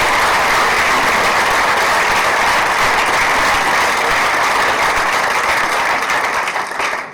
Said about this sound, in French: on applaudit aussi Bruno